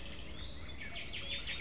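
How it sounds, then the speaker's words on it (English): Bird ambience in a video game under development: faint, quick chirps repeat in a short rhythmic run over a steady, noisy background hiss. "So I have like three bird ambience."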